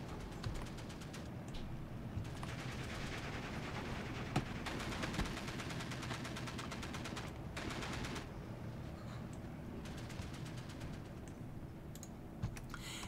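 Breda M37 machine guns fire in the strategy game Steel Division II, producing faint, rapid rattling bursts that come and go over a battlefield ambience, with no talk.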